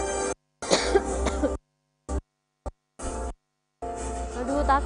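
A person coughs and clears their throat in several loud close bursts separated by short silences, at an Indonesian Independence Day ceremony.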